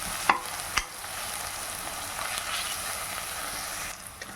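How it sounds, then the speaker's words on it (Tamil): Ginger garlic paste sizzling steadily in a hot pan for a vegetable salna, a constant close frying hiss with a couple of sharp utensil scrapes early on. "இஞ்சி பூண்டு பேஸ்ட்டு நல்லா வதக்கி விடுங்க."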